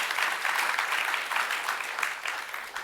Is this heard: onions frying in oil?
no